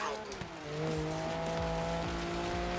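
A Ferrari drives off-road in the video game Forza Horizon 3, its engine note climbing and sliding in pitch with tire scrubbing and skidding, as a voice talks over the car.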